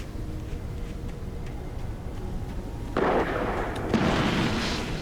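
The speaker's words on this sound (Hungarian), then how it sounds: "Lövések." Gunshots in the video game Alan Wake Remastered come as muffled, distant booms over a quiet, rumbling background. A heavier burst hits near the middle, and a second one follows about a second later.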